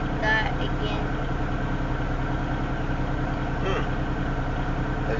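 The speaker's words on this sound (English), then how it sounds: "It sounded like the compressor and then it idled up for a second." A parked Norfolk Southern freight locomotive on an Union Pacific stack train near Elkhart, Iowa hums with a steady low diesel idle and compressor drone, heard from nearby outdoors, with faint voices briefly over it.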